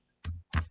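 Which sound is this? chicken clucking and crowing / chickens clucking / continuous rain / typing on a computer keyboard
typing on a computer keyboard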